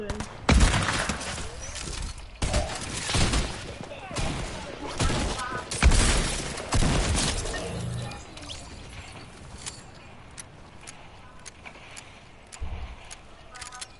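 Fortnite machine gun fire in quick loud bursts early on, then thinning to scattered sharper shots further off, with a voice talking over parts of it.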